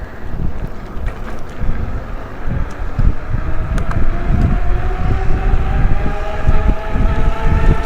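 An eBike in pedal assist level 5 and 8th gear accelerating outdoors, a steady whirring drive with rising tones beneath heavy wind buffeting on the microphone, continuous and close throughout.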